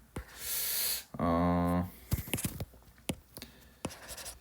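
Writing on a board in green, a short series of scratchy, faint strokes and taps following a brief sustained squeaky tone, quiet and close, with no clear talking.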